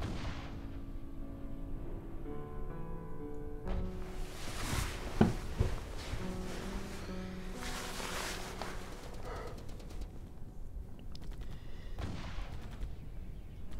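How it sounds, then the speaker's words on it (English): Distant gunfire and artillery in a war setting, muffled booms and scattered cracks rumbling faintly and irregularly under a low, steady background. "I'm gonna wait for the gunfire to stop."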